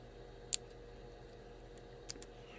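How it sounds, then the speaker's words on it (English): Two sharp metal snips from scissors cutting necklace wire during a restringing job on a blue necklace, one crisp snip early and a second double snip near the end, close up over a quiet room hum. "See if my scissors will work any better"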